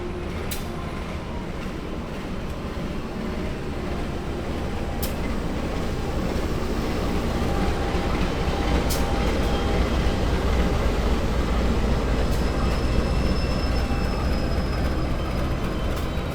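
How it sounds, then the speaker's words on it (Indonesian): A train rumbles steadily into Pasar Senen station in Jakarta on track 2, a heavy continuous roar with faint squeals and clanks rising slightly as it draws nearer. "nampaknya ada kereta yang baru masuk teman-teman di jalur 2"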